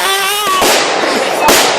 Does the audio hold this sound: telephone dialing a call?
no